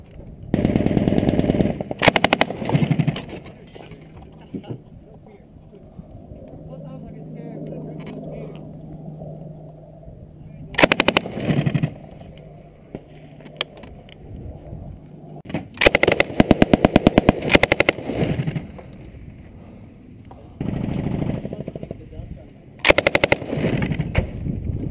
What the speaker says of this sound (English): Just fucking shoot, Roach.